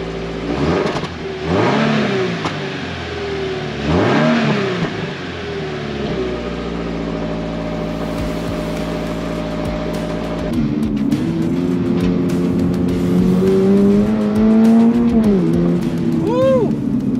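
A 2022 Subaru BRZ sports car with 228 horsepower accelerates hard on a track day, its engine revving up loudly through rising pitches with gear changes, then holding a strained high-rev drone.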